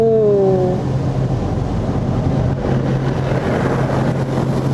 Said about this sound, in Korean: 이 고압수